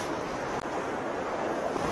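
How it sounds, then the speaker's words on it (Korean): Strong wind blows steadily at the seaside during an evening of squid fishing, a loud, continuous rushing roar buffeting the microphone, with no talking. "와, 바람 많이 분다."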